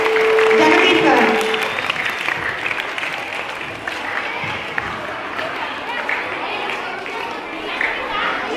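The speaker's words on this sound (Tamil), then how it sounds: "மாணவர்கள் கைத்தட்டல" Schoolchildren clapping at a Women's Day celebration in a Chennai middle school, a dense burst of applause loudest at the start, then thinning into scattered claps mixed with crowd chatter and children's voices.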